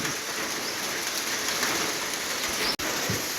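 Heavy storm rain pours down steadily in Laos, a dense, even hiss of drops hitting surfaces that fills the whole stretch, with one brief dropout near the end.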